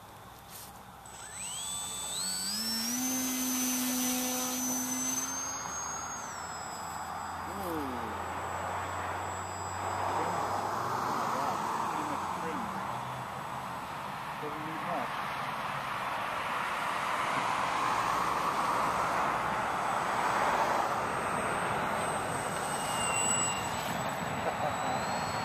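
A Fenix 80 RC model airplane on its maiden flight gives a high whining electric motor pitch that rises as it speeds up, then drones and shifts with Doppler sweeps as it passes, under steady outdoor wind noise.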